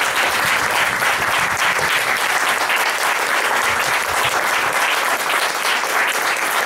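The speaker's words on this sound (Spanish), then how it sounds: "un aplauso enorme para él" A large audience applauds Dr. Raúl Zaffaroni after his talk, with dense, sustained clapping at an even, loud level throughout and no other sound standing out.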